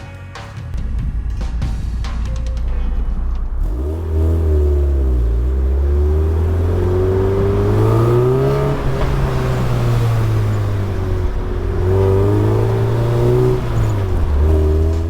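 A Mazda Miata pulls away and accelerates, its engine droning loud and steady with rising and falling pitch as it shifts through gears, heard from inside the car with no talk.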